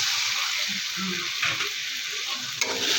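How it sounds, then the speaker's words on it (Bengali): Water is poured into a pan of frying potatoes and morola fish curry, setting off a loud, steady hiss of sizzling with a few soft splashes. "এখন পরিমাণ মতন হালকা জল দিয়ে দেবো"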